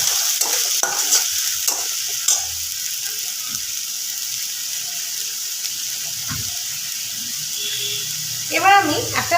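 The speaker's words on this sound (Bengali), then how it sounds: "আদা রসুনের পেস্ট আমি এখানে দিয়ে দিলাম এবার এটাকে একটু ভালো করে মিশিয়ে নেব" Ginger-garlic paste is stirred in a frying pan, with a few scraping strokes early on over a soft steady sizzle and hiss. Brief watery or tap-like sounds come near the end.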